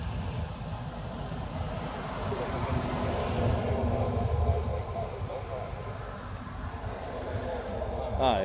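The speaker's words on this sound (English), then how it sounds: "so that C-17 is moving" A Boeing C-17 military transport aircraft rolls along at Honolulu airport, a distant, steady low jet rumble and drone with a broad whooshing wash, moderately faint and continuous, with a brief higher hiss near the end.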